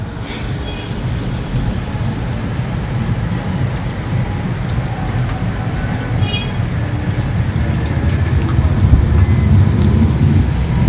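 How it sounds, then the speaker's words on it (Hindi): Heavy rain pours at night at a river ghat on the Yamuna, a dense, steady roar that grows slightly louder toward the end, with no one speaking over it. "बारिश बहुत ही तेज़ी से"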